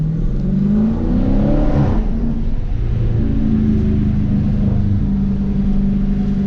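A car engine pulls hard on an early-morning 2 a.m. drive, with a loud, steady rumble and rising engine tones. It is close and continuous, with no talking.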